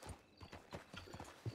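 Horse hooves clip-clopping in Red Dead Redemption II, a steady run of close, even hoofbeats with a faint background voice or two underneath.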